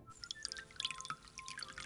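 A shower drips water in a quiet room: scattered, irregular small drops with bright, sharp ticks, faint and close, with no talking.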